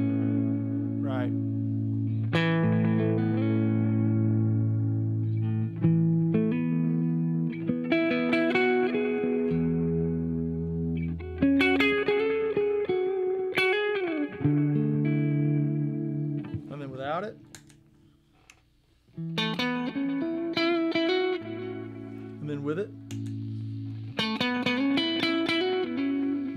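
An electric guitar through a compressor effect pedal at medium gain plays phrases of chords and single notes, sustained and even, with a short quiet break partway through and a brief spoken aside.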